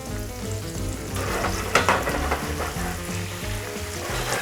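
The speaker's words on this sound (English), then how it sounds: "You want to cook the shrimp till they start to become opaque and the tails slightly" Head-on shrimp with garlic sizzle and fry steadily in a hot pan, a continuous close crackle with a few brief sharper spatters partway through.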